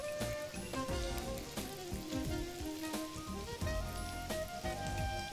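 Onions sauté in a pan for a minced-meatball tagine: a steady, close sizzle and crackle runs throughout beneath prominent background music, with no talking.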